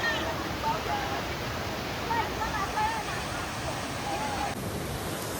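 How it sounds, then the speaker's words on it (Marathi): Mormarewadi waterfall near Kamshet, Pune, in the monsoon, a loud continuous roar of falling water filling the air close by, steady and unbroken with no pauses. "तुम्हाला माझ्या मागे दिसत धबधबा किती मोठा आणि किती छान आहे बघा"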